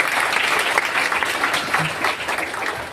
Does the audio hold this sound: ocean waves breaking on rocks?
no